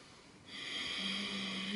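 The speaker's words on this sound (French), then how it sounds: "j'expire par le nez, mais en créant un son au fond de ma gorge" A slow, raspy exhale through the nose with a hoarse, wave-like rush at the back of the throat, steady and close.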